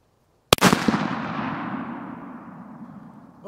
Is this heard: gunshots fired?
yes